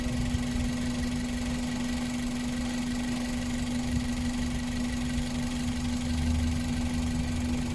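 A 2006 Toyota Vios 1.5 E with a 1,500 cc VVT-i engine idles steadily, with an even mechanical hum and a faint ticking texture running continuously at close range and no talk.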